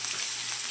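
Beef frying in a pan with a creamy white sauce, giving a steady, close, broadband sizzle that holds even for the whole short moment, with no talk over it.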